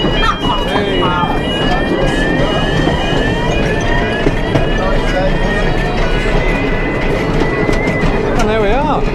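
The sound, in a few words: Rio Grande miniature train ride at Paultons Park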